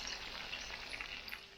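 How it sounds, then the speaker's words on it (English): Barracuda pieces fry in a frying pan with a steady, faint crackling sizzle throughout, no voices over it. "I got the second batch in the frying pan"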